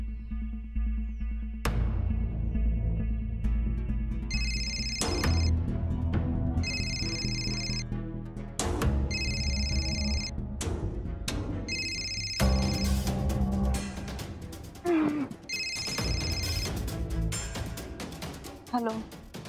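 A telephone ringback on an outgoing call in a Marathi TV serial: a series of repeated electronic ring bursts, evenly spaced, sounding over background music and room noise.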